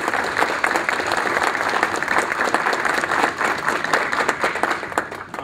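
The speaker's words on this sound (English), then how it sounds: "I think we need to give him a round of applause." Audience applause for Scott Walker, governor-elect, at a county finance and audit committee meeting, a steady dense wash of many hands clapping, fairly loud and close, tapering near the end.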